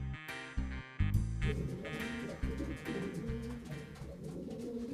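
Racing pigeons in a loft cooing, soft layered low coos from several birds close by, with some rustling and shuffling and occasional sharper sounds.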